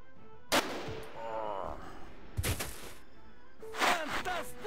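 Gunfire in the tactical video game Jagged Alliance 2, three separate sharp shots or short bursts spaced a second or more apart, each with a trailing echo, over a quiet background.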